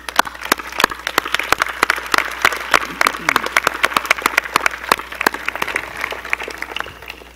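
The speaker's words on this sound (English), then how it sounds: "please help me recognize these individuals with your applause." A high school graduation crowd applauding the class of 2018, dense continuous clapping with sharp individual claps popping out near the microphone, loud and sustained before thinning slightly at the end.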